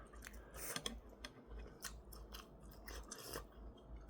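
Ramen noodles eaten at close range, two portions cooked, with soft wet slurps, chewing and small crunchy clicks scattered irregularly over a quiet background.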